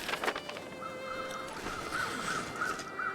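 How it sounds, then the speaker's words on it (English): Crows caw repeatedly in the snowy wilderness of the survival game The Long Dark, several sharp calls in a rhythmic series over steady wind noise, moderately close and with no talk. "So many bird sounds, but where's the birds?"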